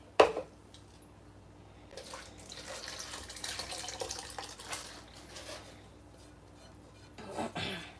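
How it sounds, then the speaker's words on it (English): Steak marinade poured from a container into a colander, a faint liquid splash and trickle in the middle stretch, with clunks of kitchenware at the start and end. "take your marinade out and pour it inside your colander"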